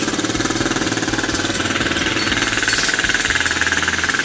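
A small Odes Rider 8-125cc ATV engine idles close by with a steady, rapid chugging putter and a slight rattle throughout, with no voices.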